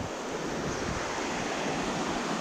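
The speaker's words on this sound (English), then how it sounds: "that's the river we've been following back" A river near Beddgelert rushes in a dense, steady broadband roar, close and unbroken, with no voices.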